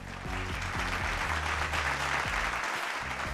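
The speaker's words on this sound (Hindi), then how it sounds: "बहुत सारी तालियां हारने और जीतने वालों के लिए।" A studio audience at a television talk show claps in a steady, continuous burst of applause, with low sustained musical tones running underneath the whole time.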